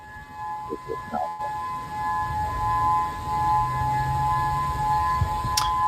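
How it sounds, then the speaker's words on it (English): A tsunami warning siren in Maui, Hawaii holds a steady, droning wail at a distance, with rumbling wind and background noise throughout. "This is my first time hearing a tsunami siren."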